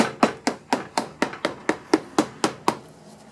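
About ten sharp hammer taps on the metal lid of a one-gallon paint can, evenly spaced and close up, each ringing briefly before the next strike.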